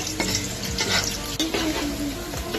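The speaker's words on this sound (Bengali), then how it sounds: "এদিকে মশলা দিয়ে দিল একটু ভেজে নিচ্ছে।" Spices fry in a pan with a continuous close, loud sizzle, overlaid by stirring scrapes and a few clinks of utensil on metal.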